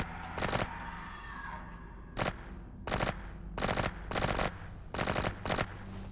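Bursts of automatic gunfire from the video game Tunguska: The Visitation, six or seven short rattling volleys in quick succession over a low steady background hum, with no talking.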